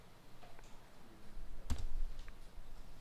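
A single sharp mouse click on a computer during accounting software work, brief and close against a quiet room.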